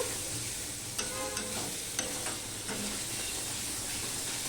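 Catfish and broccoli curry cooking in a pan, a steady close sizzle with a few light clicks of a spoon stirring.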